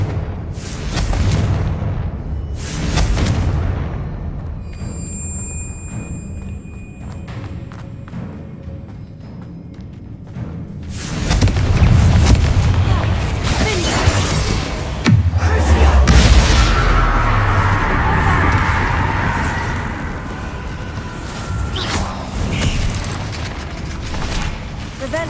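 In the Hogwarts Legacy video game, the Confringo fire spell sets off repeated booming explosions with deep thuds and crackling debris, loud and close, over about twenty-five seconds with a quieter stretch in between.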